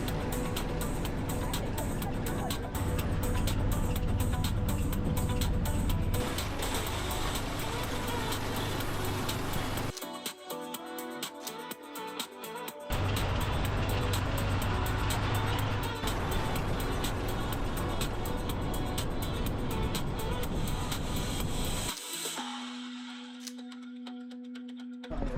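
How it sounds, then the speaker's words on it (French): A selam, a motorized three-wheeled cart ridden in Vietnam's Mekong Delta, drones with loud, continuous engine and road rumble, briefly dropping in level midway before fading near the end. "nous prenons un selam, une sorte de charrette motorisée à 3 roues"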